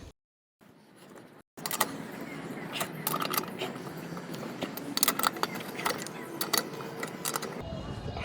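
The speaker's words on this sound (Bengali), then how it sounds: "এখন আমাদেরকে হুইল রেঞ্জ দিয়ে নাটগুলো শক্ত করে টাইট করতে হবে" A wheel wrench tightens the nuts on a car wheel during a tyre change. After a brief silence, irregular close metallic clicks, knocks and scrapes repeat steadily against a low background hum.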